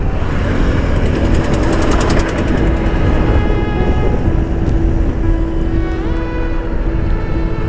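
A motorbike engine runs steadily during a ride on a road in Nepal's Terai, a loud continuous drone with a rising and falling pitch as the rider changes speed, with no speech.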